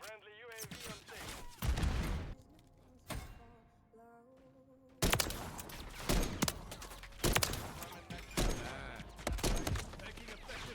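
Gunfire in the Call of Duty Modern Warfare 3 beta video game: sharp bursts and volleys of shots arrive in clusters amid game voice callouts, with loud barrages in the second half.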